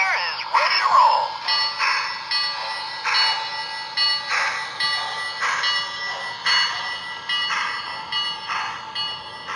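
A Lionel battery-powered O gauge toy train set, the Pennsylvania Flyer, starts up and rolls with a steady mechanical hum, a bright bell ringing in repeated pulses roughly every second over it, close and moderately loud throughout.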